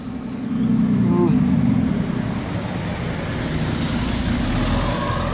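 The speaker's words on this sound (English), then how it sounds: "And the bus is passing me." A bus passes close by on a roadway, its broad, loud engine and traffic roar swelling early and holding steady, with a faint brake hiss near the end.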